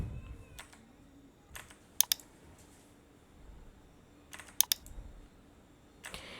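Someone types an email address on a computer keyboard in a quiet room, a few brief clusters of soft key clicks with pauses between them.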